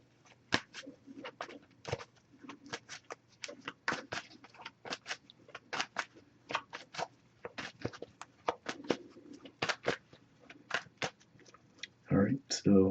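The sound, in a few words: shuffling and cutting an oracle card deck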